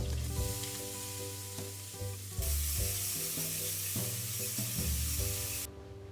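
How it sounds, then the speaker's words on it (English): Cumin seeds, onions and green chilies sauté in hot oil for a chole tadka, making a steady hiss and sizzle that swells partway through. A droning hum from a kitchen appliance runs beneath it. "Heat some oil, add cumin seeds, onions and green chilies and saute them."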